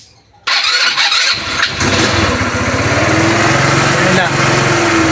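A carbureted motorcycle engine push-started in cold weather sputters, catches and revs into a loud, steady running roar after half a second of near silence, close by, with a voice talking over it.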